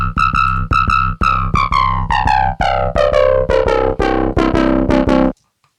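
A synth riff duplicated and panned hard left and right, a loud run of bright distorted notes with a steady pulsing rhythm that plays alone and stops cleanly at the end.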